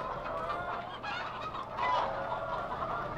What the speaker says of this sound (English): Look at all those chickens. Oh, I got chickens everywhere.